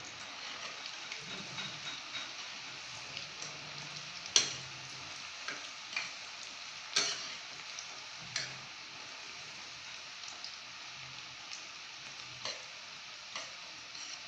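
Cauliflower chilli frying in a pan, a soft continuous sizzle with scattered ticks and sharper clacks as it is stirred now and then, fairly quiet and close with no voices.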